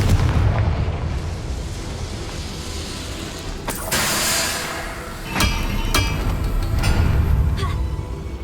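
Blast from the Confringo fire spell cast in Hogwarts Legacy, a dense rumbling burst followed by several sharp cracking impacts and continuous game noise across the scene.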